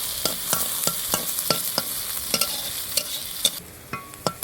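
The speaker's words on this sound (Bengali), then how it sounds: "এখন আমি ফোড়নটাকে ভেজে নেব" An onion, bay leaf and cumin tempering sizzles in hot oil while a utensil stirs it, sharp scraping clicks arriving in a quick irregular rhythm over a continuous close frying hiss.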